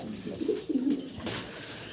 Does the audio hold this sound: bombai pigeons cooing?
yes